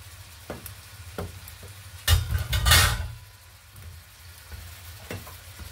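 Okra and string beans stir-fry for Filipino pakbet, a soft sizzle underneath with a few light scrapes and taps of a utensil against the pan, then a louder burst of sizzling and clattering stirring midway before settling back.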